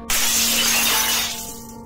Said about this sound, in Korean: 갑자기 방 안쪽에 있던 창문이 와장창